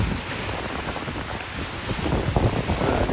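Strong wind buffets the microphone at Dinuit Beach in Boracay, with ocean waves washing in underneath as a constant loud roar and no talking.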